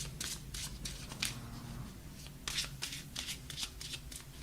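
Tarot cards being shuffled by hand, a quick series of crisp riffling bursts in an irregular rhythm, close and fairly quiet with no talking.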